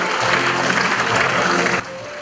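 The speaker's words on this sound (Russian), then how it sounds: "Вновь ваши аплодисменты чемпионам спартакиады." An audience at a sports competition gives the champions a sustained round of applause, a dense, loud clatter of clapping that thins out abruptly near the end.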